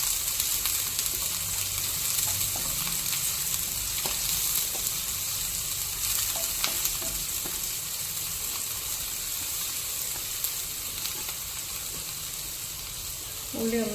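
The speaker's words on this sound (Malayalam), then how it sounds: "എണ്ണയിലേക്ക് നമുക്ക് ഉള്ളി, പച്ചമുളക് 2ആയി പിളർന്നതും കൂടിയിട്ട് ഇട്ട് കൊടുക്കാം." Sliced onion and split green chillies fry in hot oil for a snake gourd stir-fry, a steady, close sizzle with occasional stirring scrapes throughout.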